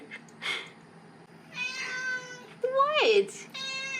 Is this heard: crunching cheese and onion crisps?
no